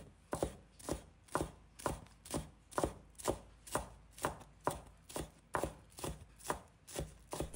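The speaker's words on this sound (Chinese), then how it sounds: "把它切成葱花" A knife chops green onions into small pieces on a board, producing crisp, evenly paced thuds about two per second, close and clear with no talk.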